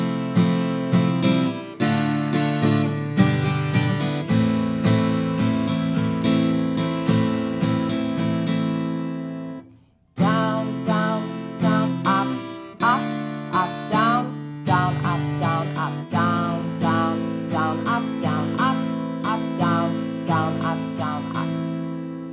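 Acoustic guitar strumming a song's chord progression in a steady rhythm, close and bright, with a brief pause midway before the strumming resumes, no talking.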